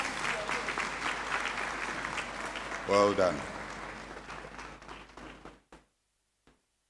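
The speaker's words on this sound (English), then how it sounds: "Shall we give him another round of applause" Audience in a university great hall applauds during a congregation ceremony, sustained clapping that fades out near the end, with a brief spoken voice over it partway through.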